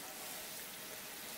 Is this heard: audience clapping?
no